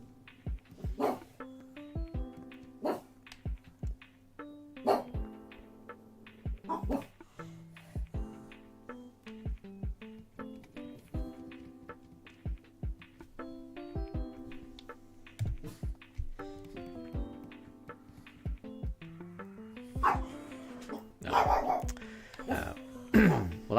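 An indoor dog gives short, sharp barks in scattered bursts, repeated many times over steady game music while a person talks.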